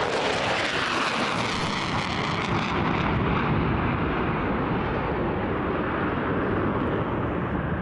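Two F-15 fighter jets fly past in formation at an air force display, a loud, broad roar that builds and holds for several seconds with wind buffeting the microphone.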